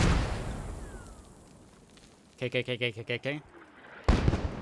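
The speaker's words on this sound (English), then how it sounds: "Look at these mortars." Mortar fire in the war game Post Scriptum, with a rapid series of six evenly spaced thumping blasts at mid distance, then a heavier burst near the end, with voices talking over the scene.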